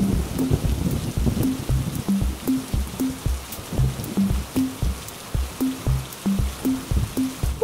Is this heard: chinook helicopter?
no